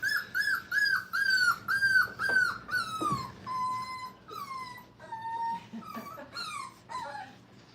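Five-week-old puppies in a training kennel whimper and whine, a run of high, drawn-out cries that repeat one after another, close and fairly loud, with no talking.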